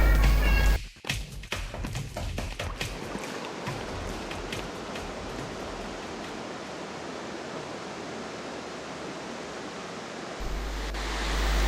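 Water rushes steadily at the meeting point of two streams, a dense, continuous roar of flowing water, with a few tapping knocks near the start.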